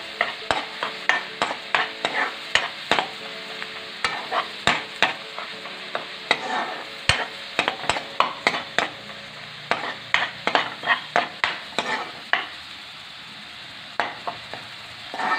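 Crushed ginger garlic paste frying in a pan for Kerala-style beef pickle, a continuous hiss broken by rapid, irregular clicks and taps of a spoon stirring against the pan, close and fairly loud, with no talking.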